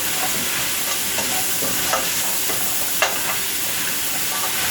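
Frozen collard greens and mixed vegetables being stirred in a soup pan over a steady frying sizzle, with a few sharp utensil scrapes and clicks standing out near and clear.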